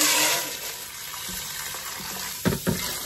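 Cold tap water runs steadily into a cooking pot for Peruvian beans, a constant broad rushing hiss with a couple of louder splashing surges near the end.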